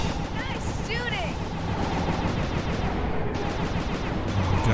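Gunfire rattles steadily through a dense game battle in Sly 2, a continuous roar of shots and impacts with a voice talking over it.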